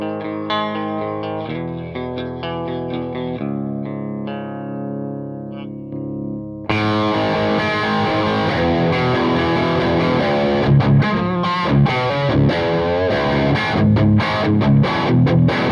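A Gibson Les Paul electric guitar plays a few clean, ringing chords, then kicks into a loud distortion gain channel on its humbuckers, with thick, driven riffing that fills the rest.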